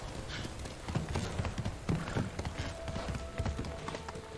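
Horse hooves clip-clop at a steady trot through a forest in the video game Ghost of Tsushima, close and fairly loud over a busy game soundscape, with no talk.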